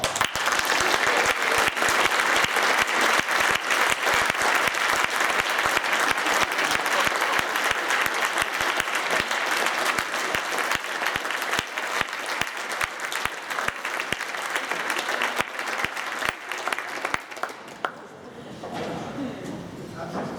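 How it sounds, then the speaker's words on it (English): A concert audience applauds newly joined orchestra players at a spring concert, dense sustained clapping from a large crowd that holds steady for about seventeen seconds before thinning out and fading. "ask once again our new players to stand and take the applause"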